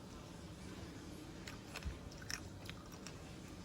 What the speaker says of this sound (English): Can you hear me crunching? They are so crunchy.